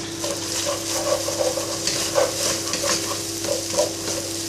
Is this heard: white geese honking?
no